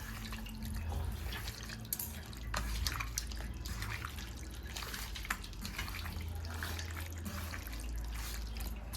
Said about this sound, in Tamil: இப்போ போட்டு நல்லா வந்து ஃப்ரை பண்ணுறாங்க